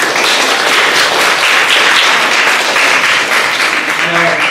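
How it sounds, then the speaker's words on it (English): Students at an elementary school assembly clap and cheer in a steady, dense burst of applause filling the room, with a brief tonal sound near the end. "Give them a round of applause"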